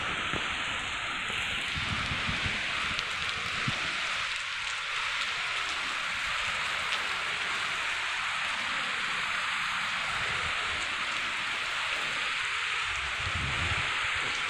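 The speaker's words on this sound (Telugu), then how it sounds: "మంచి జల్లు వాన పడతా ఉన్నది." Steady downpour of heavy night rain in Gopalapuram, a continuous close hiss with wind stirring the trees, unbroken throughout and without any talking.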